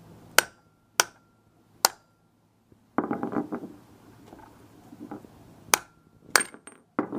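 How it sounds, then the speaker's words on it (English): A mallet strikes a 36 mm socket to drive a differential bushing out of an Infiniti G37, giving several sharp, separate metallic knocks with pauses between them, plus a stretch of scraping and rattling in the middle. "Just use a mallet."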